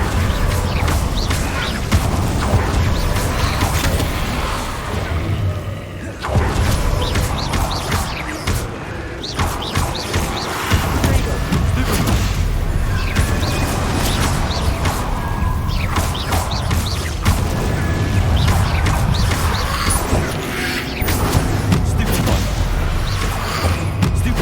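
Fire and blasting spells, Incendio and Confrigo, cast in the Hogwarts Legacy video game, making a continuous loud barrage of booms and crashes with brief dips, alone with no voices.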